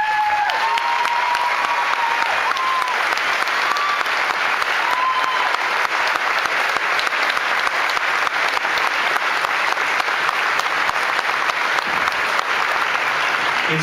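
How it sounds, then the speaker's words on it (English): Sustained, dense audience applause fills a graduation ceremony for Hall of Fame students, steady and loud throughout with a faint whistle or cheer near the start. "please stand and take a round of applause."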